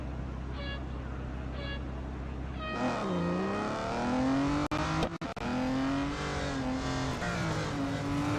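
A race car engine in the mobile racing game Real Racing 3 idles, then revs up hard and holds a rising, gliding whine through the gears. Brief clicks break in midway, and the car stays loud and forward throughout.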